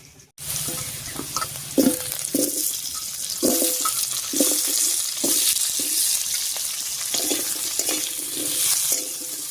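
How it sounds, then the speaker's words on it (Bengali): Potatoes stirred into browned chopped onions in a frying pan, a constant close sizzle broken by rhythmic scraping strokes of the spatula, roughly one every second, with no one speaking. "আলু দিয়ে একটু নাড়িয়ে নিলাম।"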